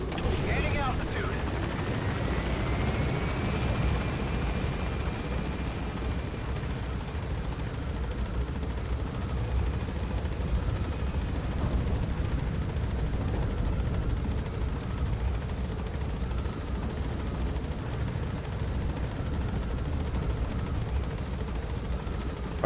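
A helicopter in Metal Gear Solid V: The Phantom Pain climbs in altitude, its steady, dense rotor and engine roar running continuously at close range. A voice is heard briefly at the start.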